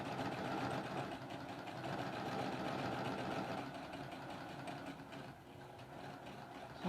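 Sewing machine stitching half square triangle quilt blocks, a steady rapid mechanical whir running continuously at close range, easing briefly near the end with no talking.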